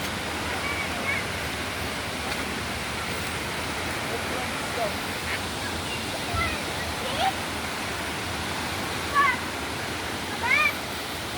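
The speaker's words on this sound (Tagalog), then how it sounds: "Okay, andito na tayo sa pangatlong falls." The third waterfall along a hiking trail gives off a constant, even rush of falling water that fills the whole scene with no breaks.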